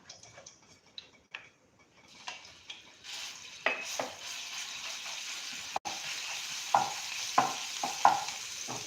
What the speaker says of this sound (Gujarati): હવે આપણું તેલ ગરમ થઈ ગયું છે. હવે આપણે આદુ મરચાં લસણની પેસ્ટ નાખીશું.